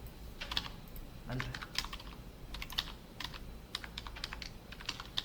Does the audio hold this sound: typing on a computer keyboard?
yes